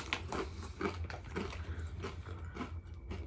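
Someone bites and chews Mission corn tortilla chips close to the mic, with rhythmic crunches every half second or so for several seconds and no talking.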